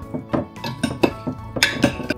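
Potato salad being mixed in a bowl, with a quick irregular series of clinks and scrapes from utensil against dish, close and fairly loud, and no talking.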